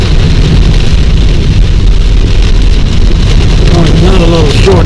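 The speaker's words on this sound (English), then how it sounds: "Well, we ran into some really hard rain." Very heavy rain pounds a car driving about 30 miles an hour on a rural secondary road during a thunderstorm, a loud continuous roar that fills the whole clip without a break.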